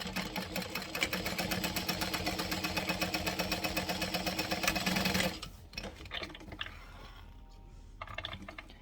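A sewing machine stitches a quarter-inch seam on gusset pieces at a long 4 stitch length, running steadily and fairly close for about five seconds before stopping, followed by quieter handling noises.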